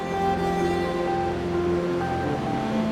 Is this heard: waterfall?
yes